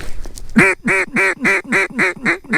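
A flock of ducks quacks loudly and close during a duck hunt from a kayak on public land, with about eight evenly spaced, strong calls following a brief faint lead-in.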